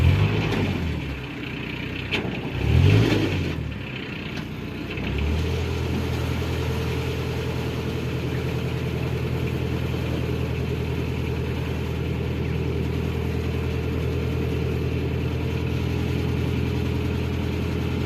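A narrowboat engine churns steadily in a low, continuous drone after a few louder bursts in reverse, running without pause for the rest of the stretch.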